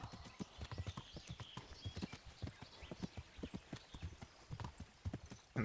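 Steady rapid hoofbeats of a galloping horse in the video game Kingdom Come, rhythmic clip-clop thuds at moderate distance, with no talking over them.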